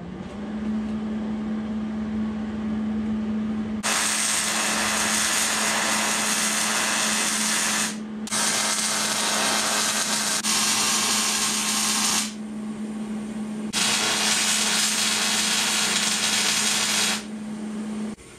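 Tack welds joining a truss to a Jeep JK axle during a rear one-ton axle swap: a steady loud crackling hiss in three long bursts of several seconds each, separated by brief pauses, over a constant low electrical hum.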